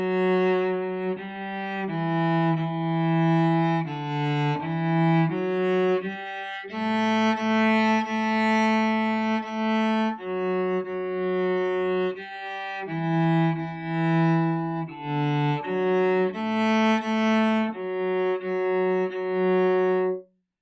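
Solo cello plays the opening eight measures of Little Hans, a steady melodic line of sustained bowed notes with clear harmonics, close and moderately loud, ending with a brief pause at the close.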